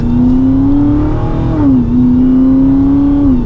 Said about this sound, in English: it sounds really good combined with that supercharger and that exhaust